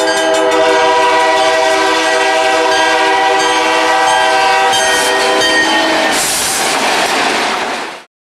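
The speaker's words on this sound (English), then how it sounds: "The NAR SD38-2s were also equipped with Nathan K3L horns. Here's a sample from NAR 401." A Nathan K3L five-chime horn on Northern Alberta Railways GMD SD38-2 locomotive 401 blares as a loud, steady chord for about six seconds, then a burst of air hiss before it cuts off.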